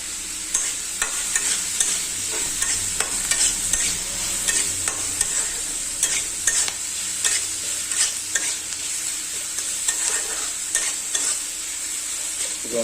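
Chopped onions fry in a pan for an egg curry, browning in oil while a spoon stirs them. The steady sizzle carries a string of close scraping clicks from the stirring, and no one speaks.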